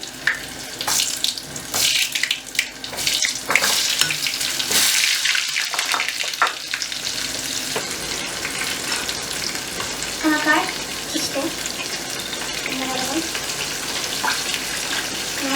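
Lezita chicken pieces fry in hot oil, a loud close sizzle with bursts of splashing and stirring early on that settles into steady crackling, with a few faint tonal squeaks later.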